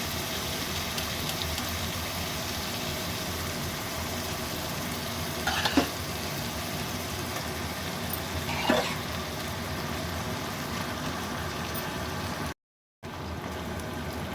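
Boiled dal stirred into spices in a hot pan for tadka, a steady close sizzle with faint scraping stirs and no voices.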